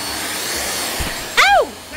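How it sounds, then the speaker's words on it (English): A vacuum cleaner runs on household stairs beside a Bernese Mountain Dog puppy, a steady close whining drone with a brief, higher, swooping vocal sound near the end. "Got to vacuum the stairs."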